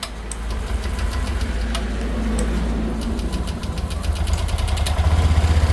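A Honda Beat 2024 scooter engine, rebuilt after damage from counterfeit oil, runs close by with a steady knocking idle that rises slightly in level toward the end.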